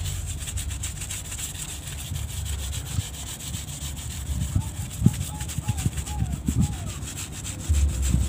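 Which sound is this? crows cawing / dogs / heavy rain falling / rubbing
rubbing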